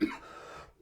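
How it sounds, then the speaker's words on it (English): A single short cough bursts out nearby, then trails off into a brief breathy fade. "Sorry, guys, I have to cough."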